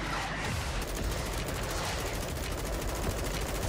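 Sustained rapid M4A1 rifle fire in Warzone, a dense, loud stream of closely spaced shots with no pauses across the whole stretch.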